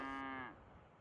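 A single short cow moo, a low tonal bellow that fades out after half a second.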